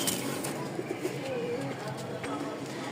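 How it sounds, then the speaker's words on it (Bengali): Pigeons coo softly in a close, low run of repeated notes, with a person's voice talking nearby through the short stretch. "এই হচ্ছে দুই জোড়া কবুতর।"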